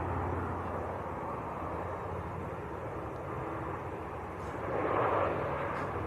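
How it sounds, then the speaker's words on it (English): A Ryanair Boeing 737 MAX 8 from Brussels approaches to land at Manchester Airport, a distant steady broadband engine rumble that swells slightly near the end. "Just waiting for Ryanair from Brussels, which is about to land."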